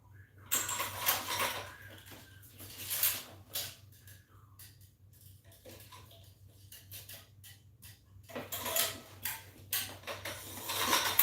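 Racquet stringing machine ratchet being cranked, with bursts of clicking and mechanical rattling at the start and again near the end, separated by a quieter stretch, over a steady low hum.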